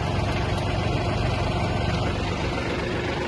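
A Yanmar F-250 Japanese mini tractor runs steadily with its PTO cardan shaft turning, giving a constant low mechanical drone and hum close by with no speech.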